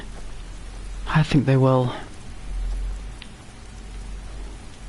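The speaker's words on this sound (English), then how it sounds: "As it's lashing it down with rain?" Steady heavy rain hisses throughout a Skyrim outdoor scene near a mill house, a continuous downpour wash under a brief spoken line from one voice.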